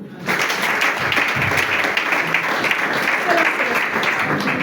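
Congregation applauding together in a church hall during a Christian deliverance service, a steady dense wash of clapping that swells in after a brief quiet start and holds loud and even, with a few voices mixed in.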